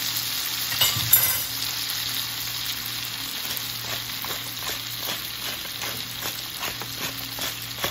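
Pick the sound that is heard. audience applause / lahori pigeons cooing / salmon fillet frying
salmon fillet frying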